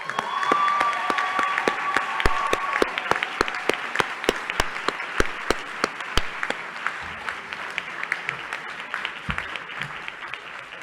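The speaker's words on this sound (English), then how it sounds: "maybe we could give them a big round of applause right now" Graduation ceremony audience applauding, dense steady clapping from a large crowd with a few sharp individual claps standing out, loud at first and gradually thinning as it fades.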